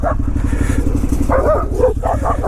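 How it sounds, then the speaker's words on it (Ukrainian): Several dogs bark in bursts at a passing KTM 990 Adventure motorcycle on an autumn forest trail, the barks rising over the bike's steady, loud engine drone. "Йо-моє, скільки собак"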